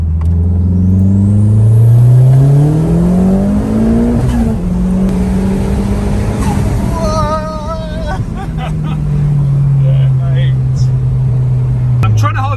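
A 600 BHP Audi TT MK1 with a 2.1 litre stroker engine and a G25-660 turbo running 30 psi boost pulls hard through second gear. The engine note climbs loudly, shifts, then drones on with turbo whoosh while people speak in the cabin.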